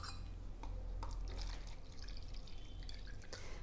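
Half a cup of water is poured into a container while mixing plaster of Paris for a cloth flower pot, a close trickling splash with drips and liquid gurgles running steadily throughout, with no talk.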